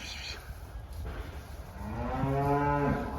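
A cow moos loudly on a farm, one long drawn-out low call rising near the end, close by with steady background noise and no talk.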